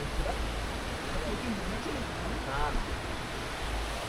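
Sea waves wash onto a beach at night at Mandarmani, a steady broadband surf roar with wind, fairly close and continuous, with faint voices in the background.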